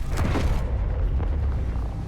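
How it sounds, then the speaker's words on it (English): A weapon explosion with a 500 explosion radius in Space Engineers booms, a broad roaring blast that stays loud and rumbling for about two seconds with no talk. "It's definitely doing a knockback from an explosion."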